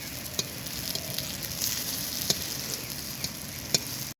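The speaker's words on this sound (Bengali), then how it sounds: "আলুর কোপ্তাগুলো ভেজে তুলে নিয়েছি" Potato koftas frying in oil: a dense, steady sizzle close up, with occasional sharp pops and ticks over a few seconds before it cuts off abruptly.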